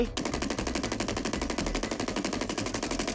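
Maddox rifle in the mobile shooter Call of Duty Mobile firing one sustained full-auto burst, rapid evenly spaced shots for about three seconds, loud and close with no talking.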